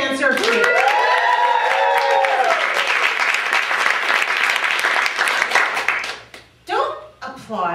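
Audience at a stand-up comedy show bursting into applause, loud dense clapping with some cheering that carries on for about six seconds before fading, as the comedian starts talking again near the end.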